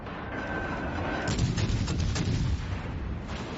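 Naval guns fire in World of Warships Legends, a dense run of booming shots rolling together into a loud, sustained barrage with no talking over it.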